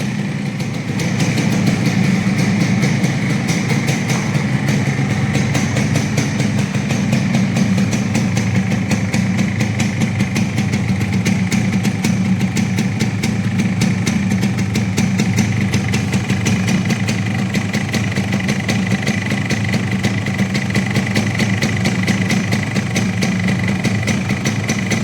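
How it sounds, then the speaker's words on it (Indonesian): A blue 2004 Yamaha RX King two-stroke motorcycle idles steadily and smoothly, a loud, continuous near engine hum with no talk over it. "Mesin masih halus."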